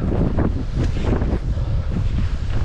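Strong wind blows across open water near a fishing spot as a storm builds, loud buffeting gusts roaring into the microphone over a wash of waves, rising and falling in bursts with no speech.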